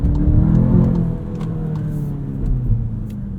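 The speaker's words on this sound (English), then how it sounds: "there's so much torque with this engine that it still works out to be a pretty fun car to drive and shift around" A 2022 Volkswagen Jetta GLI with a six-speed manual gearbox cruises along, its engine giving a steady low drone and road rumble from inside the cabin, rising slightly toward the end.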